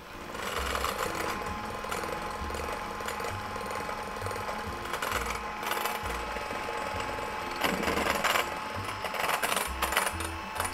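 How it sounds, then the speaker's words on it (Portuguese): An electric hand mixer whips egg whites to stiff peaks for an orange cake, a steady close mechanical whir with rattling beaters running continuously at moderate loudness. "Você vai bater a clara em neve até ela chegar nesse ponto de pico, quando você vira a batedeira e ficam os picos para cima"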